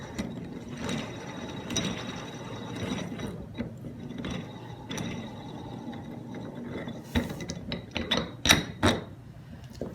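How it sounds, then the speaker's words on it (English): Metal parts click and ratchet as a special nut runner threads a left-side cone onto a Sturmey-Archer S80 hub during assembly, giving close, irregular mechanical clicks that grow busier and sharper toward the end. "Thread on the left side cone and use the special nut runner"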